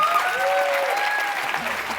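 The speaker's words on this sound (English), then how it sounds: "Please give a round of applause for everyone who was up here today." Steady audience applause fills a live quiz-show event, even and sustained throughout, with a faint tonal voice line drifting over the clapping.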